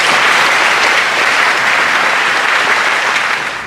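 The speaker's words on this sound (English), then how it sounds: "Let's give them one more round of applause." Audience applause at a school honors assembly, a dense steady clapping from a full hall that holds for a few seconds and then begins to taper off at the end.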